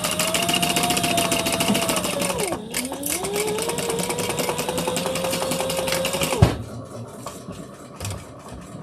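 A home sewing machine running at steady speed while topstitching a seam, a continuous whirring hum that dips briefly mid-run, then stops abruptly, leaving quieter room sounds.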